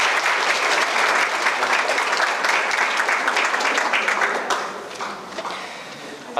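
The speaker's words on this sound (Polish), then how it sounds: "proszę o oklaski, naprawdę proszę Państwa" Sustained applause from an audience at a nonprofit organizations' forum award ceremony in Nowy Sącz, dense steady clapping filling the room, thinning and fading toward the end.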